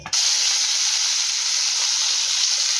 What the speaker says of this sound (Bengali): টমেটোটাকে ভালো করে তেলের সাথে ভেজে নেব